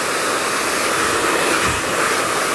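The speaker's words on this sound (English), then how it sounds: "smoothing down with the dryer" A hair dryer blows steadily, a loud continuous rushing whoosh held close with no pauses or voices.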